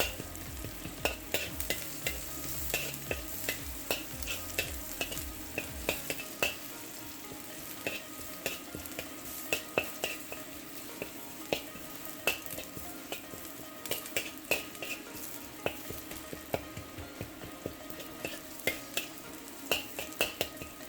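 Lemongrass stir-fried in a pan for a halibut stir fry: a steady sizzle runs throughout, dotted with frequent sharp spatula clicks and scrapes, and a low hum sits underneath for the first few seconds.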